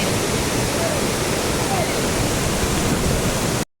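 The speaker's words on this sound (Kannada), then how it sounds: "ನೀರು ನೋಡಿ ಎಷ್ಟು ಚೆನ್ನಾಗಿದೆ, ಒಳ್ಳೆ ದೊಡ್ಡ ಫಾಲ್ಸ್ ಥರ ಸೌಂಡ್ ಬರ್ತಿದೆ." Water pouring over a forest check dam makes a steady, loud broadband rush, close and continuous with no pauses, cutting off abruptly at the very end.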